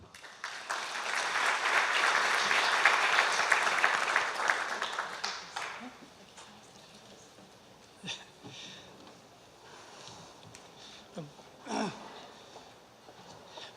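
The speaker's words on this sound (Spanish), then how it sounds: "un aplauso para el ingeniero" An audience at a disaster-reconstruction forum in Peru claps for an engineer, a dense burst of applause lasting about five seconds before it fades into room noise and a few scattered sounds.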